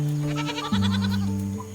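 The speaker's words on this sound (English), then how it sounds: "The goat is perfectly happy to have Peebly on its back" A goat bleats in the adventure game I Am Dead, two wavering cries in quick succession, clear and close with a steady musical drone underneath.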